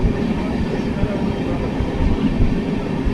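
Inside a passenger train on the Thrissur to Delhi route, a steady loud rumble of rolling wheels and carriage noise fills the space with a faint rhythmic clatter.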